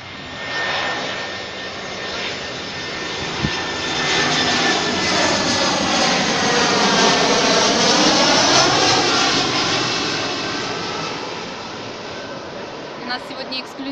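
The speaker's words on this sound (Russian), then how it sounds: "над нами летают самолеты" A propeller airplane passes overhead outdoors, its engine drone swelling as it approaches and fading away, with a voice speaking over it.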